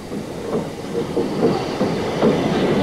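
Great Eastern Railway E4 steam locomotive working as Cambridge's pilot in 1959, a loud, steady rolling rumble with rhythmic clickety-clack of wheels over rail joints.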